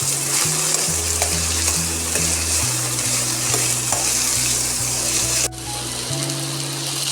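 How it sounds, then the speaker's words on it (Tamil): Mango pieces for pickle being stirred in a frying pan, with a continuous loud sizzle and scraping stirring strokes throughout, no voices. "நல்லா கிளறி விட்டுக்கலாம்."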